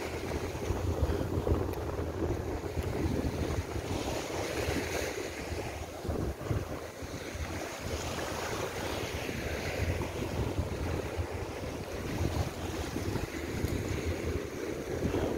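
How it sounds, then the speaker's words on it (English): A speed boat crossing rough sea off Chaweng Beach on Koh Samui, Thailand, with steady wind-buffeted engine rumble and waves slapping the hull, loud and continuous throughout without any talk. "We're in one of these boats here. So this weather, the speed boat is better."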